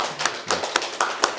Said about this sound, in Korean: 여기 한번 박수로 한번 환영하겠습니다